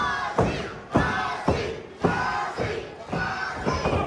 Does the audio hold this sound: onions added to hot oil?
no